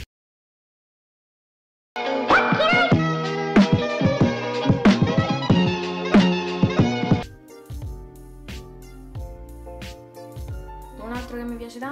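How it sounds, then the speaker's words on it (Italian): After a moment of silence, a car radio crackles into busy music and voices, then drops to a quieter, thinner broadcast. "Il prossimo effetto sonoro si chiama Car Radio"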